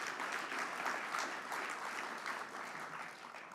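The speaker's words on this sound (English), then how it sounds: "you can give that a round of applause" Audience applause after a remark at a South African business gathering with CEOs ahead of the G20 summit, steady moderate clapping from a crowd, somewhat distant and even throughout.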